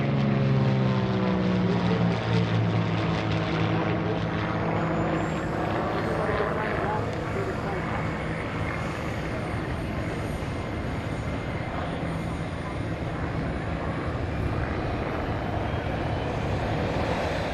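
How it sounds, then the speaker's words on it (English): A warbird propeller aircraft flies over the airfield at an airshow, a loud sustained droning engine roar that slowly shifts in pitch as it passes, with a voice talking underneath. "The aircraft that is setting up for the downwind in front of us, and will be landing in front of us here on the front side now."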